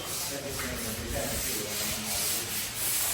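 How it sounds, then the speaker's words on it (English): Steady abrasive scraping of sanding on skim-coated interior walls in a living room fills the space, continuous rough rubbing with slight swells in loudness and no pauses. "like they're doing the last bit of skim coat and sanding"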